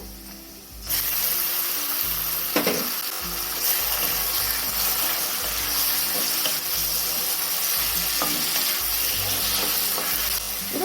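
Roasted eggplant tipped into a pan of onions fried until red, sizzling steadily with a few scraping stir clacks from a spoon against the metal.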